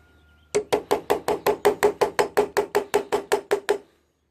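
A hex bit gets hammered into a stripped GY6 brake cap screw: about fifteen sharp, evenly spaced metallic blows in quick succession, close and loud, then silence.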